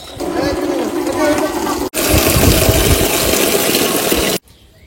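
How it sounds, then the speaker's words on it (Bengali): Water gushing from an opened tap into a large bucket, a loud steady rushing splash that breaks off for an instant, resumes, then stops abruptly, leaving quiet background. "নল খুলে জলটা নিও"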